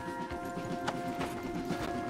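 Horse hooves clip-clop steadily in Red Dead Redemption 2 as riders halt on a wooded path, a close rhythmic patter of several hoofbeats at moderate loudness with no talk over them.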